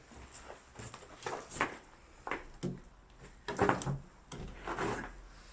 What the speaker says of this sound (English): I'm going to open this door and see